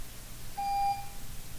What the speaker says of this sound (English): that was our buzzer